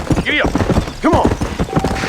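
A horse in the Red Dead Redemption video game clip-clops at a quick pace with a whinny, close and loud, while someone speaks over the hoofbeats.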